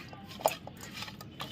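A lid is set over fish marinated with salt and turmeric, giving a single short clink in a quiet kitchen with faint handling noises around it.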